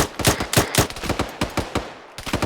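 Rapid bursts of gunfire at a shooting training session, a fast rhythmic string of loud close shots with a short pause near the end before firing resumes.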